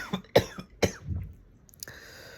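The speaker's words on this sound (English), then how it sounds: "I get these random coughing fits sometimes, and they're really annoying" A person has a coughing fit: three or four harsh coughs in quick succession close up, followed by throat clearing and a short final cough.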